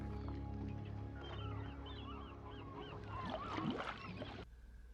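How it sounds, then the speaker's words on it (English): Gulls call in a flurry of overlapping cries over a low steady rumble in the closing scene of the film Jaws, with a louder cluster near the end before it drops away. "you can now hear seagulls."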